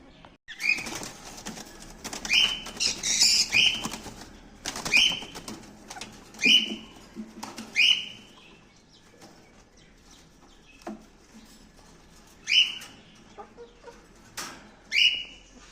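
Ring-necked parrots caught by hand from a cage, with bursts of wing-flapping and sharp repeated squawks in irregular clusters, close and fairly loud.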